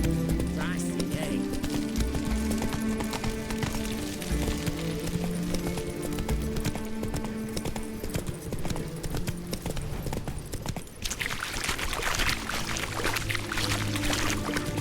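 Horse Roach from The Witcher 3 gallops along with steady clip-clop hoofbeats, layered under game music and ambient sound, with a burst of brighter noise near the end.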